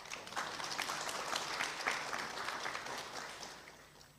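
Applause from an audience at a devotional religious discourse, a dense steady patter of many hands clapping for about four seconds and tapering off at the end, no voices over it.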